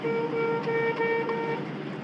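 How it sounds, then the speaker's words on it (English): A 1967 Chevrolet Camaro big block sounds its horn in a rapid series of short honks, steady in pitch and close, with faint background noise after the last blast. "Inside our 67 big block Camaro, we have a horn"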